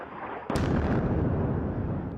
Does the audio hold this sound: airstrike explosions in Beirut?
yes